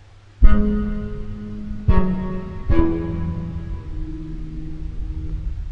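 Three plucked or struck notes in succession from a Yunost 21 synthesizer, each with a sharp attack and harmonic-rich tone that darkens under the filter as it sustains, the last one ringing out.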